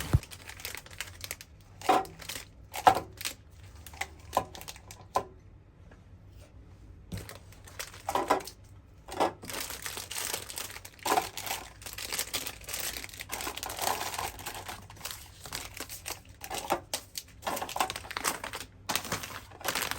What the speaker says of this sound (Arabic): هلا هون أخذت الموزعات تبعات البراد، ورح بلش ضب الأشياء بالبراد